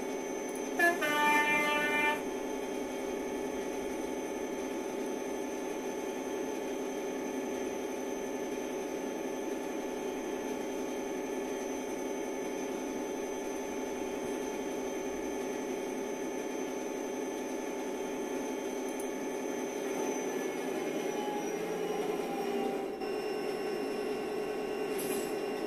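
An InterCity 125 high-speed train runs past on a single line, a steady loud roar sustained throughout with a brief horn-like tone at the start.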